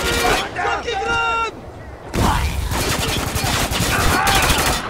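Gunfire in the shooter game Spec Ops: The Line, dense bursts of automatic fire and explosions in a chaotic firefight, loud and close, with a player's voice shouting over it.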